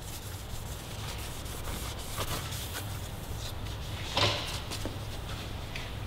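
Cloth or rag rubbing dirt and oil off the exhaust pipe of a 2018-2023 Kawasaki Ninja 400 sportbike fitted with an Akrapovic exhaust, a steady soft scrubbing with a few sharper strokes, close and alone.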